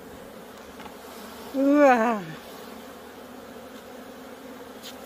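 Bees buzz steadily around a beehive during spring colony work, a constant drone throughout, while a person briefly exclaims in the middle.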